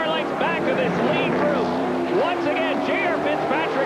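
NASCAR Canadian Tire Series stock cars race along the front straightaway at the Trois-Rivières street circuit, a steady engine roar that stays in the background beneath continuous race commentary.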